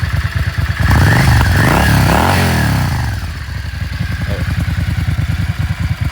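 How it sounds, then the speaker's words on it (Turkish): A Yamaha Dragstar XVS 650 Classic cruiser motorcycle engine revs up sharply, holds a high roar, then drops back to a loping, pulsing idle, close and loud. "Biraz da ara gaz yapalım arkadaşlar."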